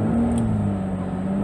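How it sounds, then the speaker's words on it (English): Toyota 2GR-FE 3.5-liter V6 swapped into an MR2 SW20 runs at a steady, loud near idle with a low droning hum, heard alone at close range. "let's see how it changes if I rev it up a little."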